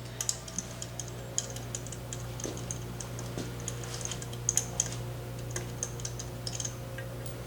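Small, sharp metallic clicks and ticks scattered irregularly over a steady low hum as loosely installed 8mm bolts are backed out with a nut driver during magneto work; the clicks are close and fairly faint, with no talking.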